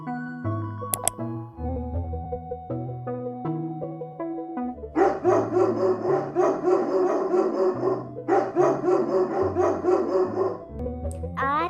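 A dog barks in a steady run of sharp, fairly loud barks lasting several seconds, heard over light background music.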